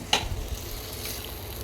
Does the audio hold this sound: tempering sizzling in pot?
yes